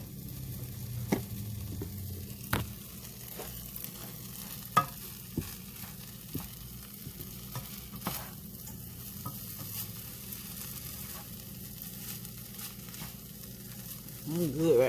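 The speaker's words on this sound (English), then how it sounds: "Butter melting." Butter melts in a pan on low heat, a faint, steady sizzle running under scattered clicks and taps of a utensil, with a louder clatter near the end.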